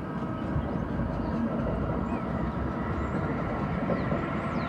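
Amtrak Northeast Regional train passing in Queens, New York, heard as a steady, moderately loud rumble of rolling wheels and engine that holds throughout; no distinct horn blast stands out.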